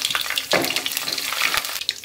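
Hot oil crackles and sizzles as mustard seeds and urad dal lentils fry, with quick popping bursts close by.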